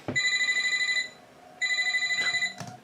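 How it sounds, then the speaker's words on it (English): A work telephone rings in two bursts of bright electronic trilling, the second following a short pause, clear and fairly close in a quiet, dusty indoor room. "Then my work phone rang."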